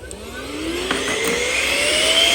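A handheld battery-operated compressed air duster blows close up, a loud whirring rush whose pitch climbs steadily as the motor spins up, with no talking.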